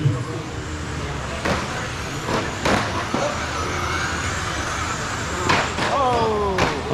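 Electric RC cars race through a Porsche Cup class main at an indoor championship track, a steady whine and buzz of small motors with sharp clacks of cars hitting boards and each other, over constant crowd and announcer noise.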